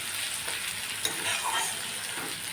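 A steady, bright hiss of onions frying in oil, continuous and close, with a few small crackles.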